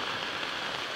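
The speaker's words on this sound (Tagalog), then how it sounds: "Lakas pa ng ulan." Heavy rain pours down steadily near a forest, a dense, even hiss of drops hitting surfaces that fills the whole moment without a break; no voices.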